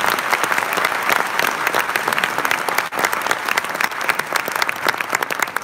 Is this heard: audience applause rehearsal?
yes